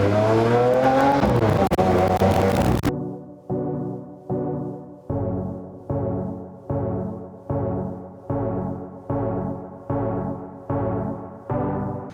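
A supercar with flames from its exhaust revs hard during a drive: a loud, sustained engine roar for about three seconds, then a steady run of about ten sharp, evenly spaced rev bursts, each rising and cutting off.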